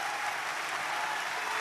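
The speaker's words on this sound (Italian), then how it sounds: "Andiamo a prendere ancora l'applauso del Teatro Ariston per Andy Garcia." Theatre audience at the Teatro Ariston during the Sanremo Festival applauds, a steady, dense wash of clapping with no gaps and no voices on top.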